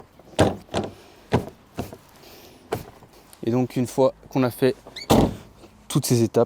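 On a Fiat Barchetta, the cover over the folded convertible top is slammed shut, giving a few sharp, close thunks between stretches of someone speaking.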